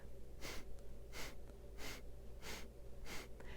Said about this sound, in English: breathe out through your nose as though you were trying to blow something out of your nose or as though you were sneezing